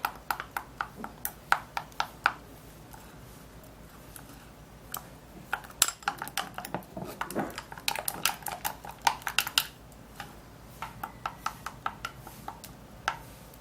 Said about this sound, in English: now I'm going to be mixing everything all up